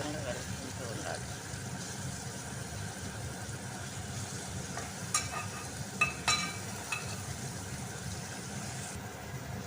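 Fried onions are stirred in a pan for a keema fry, a soft continuous sizzle with scraping stirs and a few sharper clinks near the end, while a person talks throughout.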